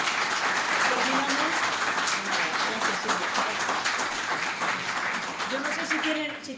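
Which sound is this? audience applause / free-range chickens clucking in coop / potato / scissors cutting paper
audience applause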